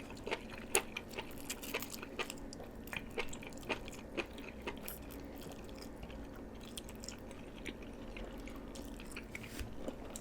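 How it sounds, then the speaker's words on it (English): Soft, close chewing of enoki mushrooms alongside spicy Korean fire noodles, a run of small irregular wet bites and crunches repeating through the clip, quiet and with no talking. "I quite like the sound of like enoki mushrooms, the chewing."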